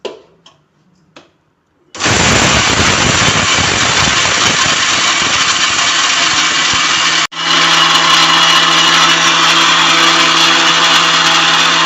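After a couple of soft knocks, a kitchen mixer grinder roars to life at full speed, grinding copra pieces, salt, asafoetida and spices for idli podi; a loud steady whir briefly dips midway and then resumes.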